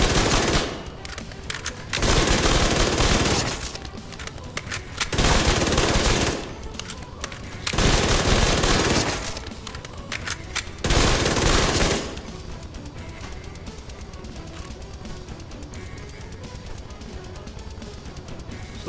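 Bursts of SMG gunfire from Division 2 come in about four dense, loud volleys of a second or two each, separated by short pauses. Quieter game ambience follows the last burst.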